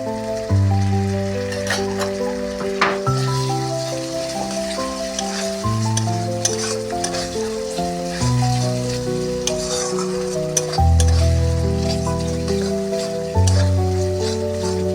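Ginger frying in hot oil for vegetarian aloo dum, a steady loud sizzle with occasional stirring scrapes and a tonal music-like background running throughout.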